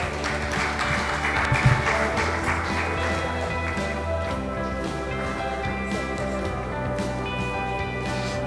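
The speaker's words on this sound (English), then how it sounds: "Please encourage them with good round of applause." Audience applause at a medical conference, a dense steady clapping that holds for several seconds at an even level, with no voices standing out.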